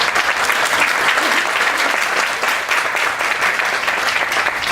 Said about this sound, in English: So let's give Alex again a big round of applause.